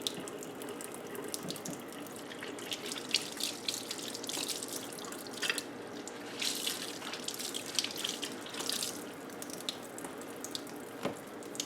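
Tap water runs steadily into a sink while an American Girl doll is washed, a continuous splashing flow with small drips and bursts, close and fairly quiet, with no talking.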